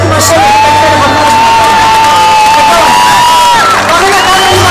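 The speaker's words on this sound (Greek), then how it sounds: "Ένα σας το χειροκρότημα σε όλα τα καλύτερα" A huge stadium concert crowd at OAKA cheers and claps loudly throughout, with whoops and whistles rising out of a dense, continuous roar.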